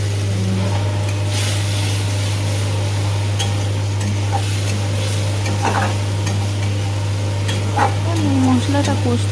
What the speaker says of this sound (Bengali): মশলাটা কষতে খুব ভালো লাগে